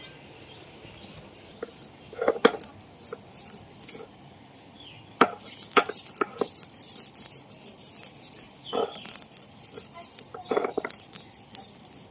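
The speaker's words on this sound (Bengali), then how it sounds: "শিলনোড়ায় গুঁড়ো করে নেব" Fried spices being ground by hand on a stone grinding slab (shil-nora), irregular scraping, rubbing and knocking strokes close by, coming in uneven bursts with short pauses.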